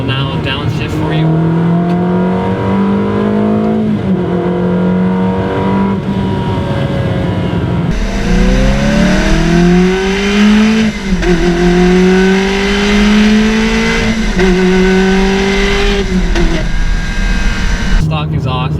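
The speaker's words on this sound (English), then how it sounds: "This car is fitted with a Tubi exhaust, which makes it sound fantastic, as I will now downshift for you." A Ferrari 360 fitted with a Tubi exhaust revs and downshifts with loud, rising engine tones and rev blips. There is a sharp step in intensity partway through as the revs climb, with the engine note dominating throughout.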